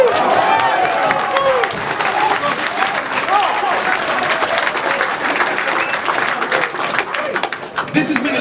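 Large crowd of about 1,200 fans at Ministry of Sound applauding and cheering steadily, a dense wash of clapping and shouts that stays loud throughout.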